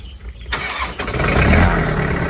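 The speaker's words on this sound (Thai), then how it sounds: "เดี๋ยวผมสตาร์ทเบิ้งให้ฟังเสียงเลยนะครับ" A Kubota M5000 tractor diesel engine cranks briefly, catches after about half a second and settles into a loud, close, rumbling idle with a knocking low-end rhythm.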